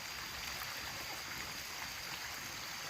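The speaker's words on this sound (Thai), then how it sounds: "โอ้ยน้ำไหลลงมาคักอะไร" Stream water flowing down through a rainy forest, a steady close hiss and rush of running water without pause, with no talking.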